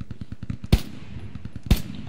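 Gunfire in the World War II shooter Hell Let Loose: a rapid burst of close machine-gun rounds followed by two louder, sharp single shots about a second apart.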